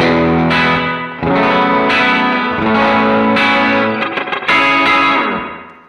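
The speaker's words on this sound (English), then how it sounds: "I use a lot of spring reverb" An electric guitar run through a Line 6 Helix with heavy spring reverb, loud chords ringing out with splashy, drippy tails and brief gaps between strums.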